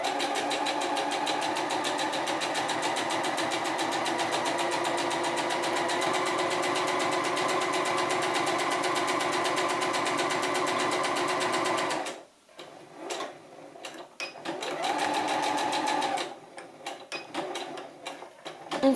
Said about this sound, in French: on réalise une surpiqûre pour maintenir ce sous-pont